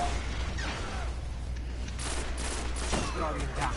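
A light machine gun fires in the Destiny video game, with dense, rapid bursts of gunfire layered almost continuously across the clip. Faint game effects and occasional talk sit underneath.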